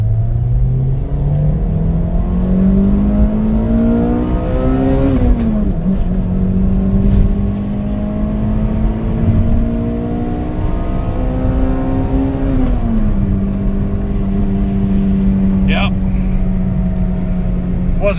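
A 2004 Toyota Matrix XRS with the 2ZZ engine revs hard through the gears, its pitch climbing steadily, then dropping at two distinct upshifts before climbing again, loud and close throughout.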